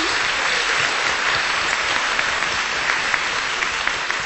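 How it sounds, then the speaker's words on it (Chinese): A full audience at a University of Hong Kong film talk on The Grandmaster claps warmly, a steady dense wash of applause held at even strength for several seconds with a few sharper individual claps near the end. "大家首先以热烈嘅掌声咧，欢迎几位久别重逢嘅新朋友"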